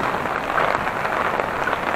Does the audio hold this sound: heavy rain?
yes